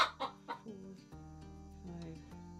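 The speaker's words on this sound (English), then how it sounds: "There's 4 hens up there." Hens give short, clustered clucks at first, then a softer run of murmuring calls, close and fairly quiet.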